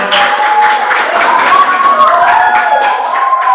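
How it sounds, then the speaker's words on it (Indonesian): Students at a junior high school orientation clap for a classmate who has stepped forward, a dense patter of many hands held steady throughout, with thin tonal voices or cheers running on top. "tepuk tangan buat teman kita"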